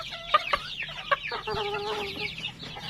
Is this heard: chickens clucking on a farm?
yes